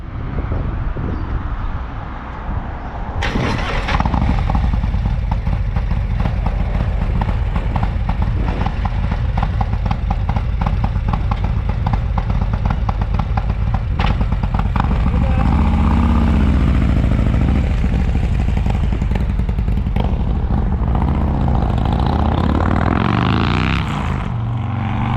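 Harley-Davidson Road Glide with a 131 engine, 540 cam and new exhaust pipes, running loud and close: a deep, rumbling idle that builds into sustained revving and a lumpy, throaty roar for over twenty seconds.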